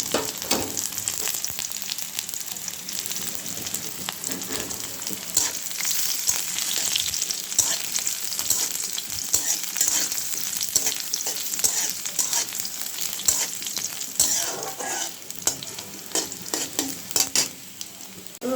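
Dried chillies and garlic fry in mustard oil in a pan, with a dense, continuous crackling sizzle and frequent sharp spits and pops that carry on steadily and close up, with no talking.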